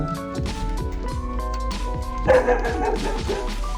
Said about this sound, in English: Just a dog, constantly barking.